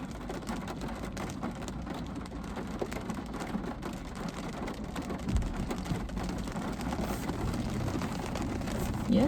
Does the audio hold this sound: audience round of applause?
no